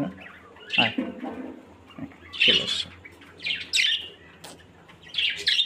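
A pet lovebird gives bursts of high, shrill chirps and squeaks in scattered clusters, loud and close, while a person speaks briefly.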